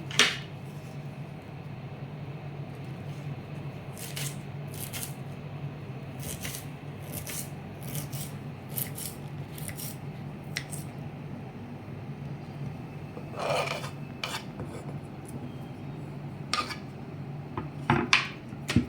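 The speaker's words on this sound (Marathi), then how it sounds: "पाला घेतलाय मी हा थोडासा याच्यात घालते मी बारीक चिरून घेते" A knife finely chops radish leaves on a board, giving irregular bursts of crisp taps and scrapes, some quick runs and some lone strokes, over a low steady kitchen hum.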